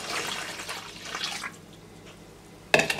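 Rose water trickles softly into hot syrup for gulab sharbat, a gentle liquid pour that fades out, followed by a sharp clink near the end.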